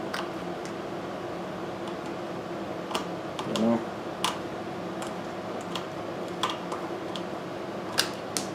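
Aircraft tin snips cutting sheet metal during a hit-and-miss engine restoration, giving sharp, irregular clicks and snips spaced a second or so apart over a steady low background hum.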